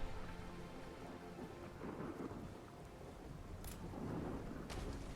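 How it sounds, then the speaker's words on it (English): Steady rain with rolling thunder in the Fallout 4 video game, a continuous wash of rainfall with low rumbles swelling and fading across the clip, no talking. "It's raining now, so his perception is slightly lowered"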